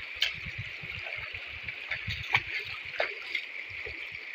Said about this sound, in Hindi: इधर पानी का चश्मा देखा है, जैसे चश्मे चल रहे हैं, पानी आ रहा है